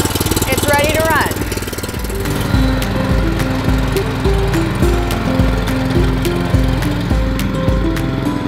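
Pull-start garden tiller engine catches after a cord pull, then settles into a close, loud, rhythmic chugging run with a steady pulse, and a voice speaks briefly over it.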